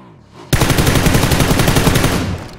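Loud, sustained burst of automatic rifle fire in the battle royale game PUBG, rapid shots in a continuous stream lasting about two seconds after a short quiet lead-in, close and dominant.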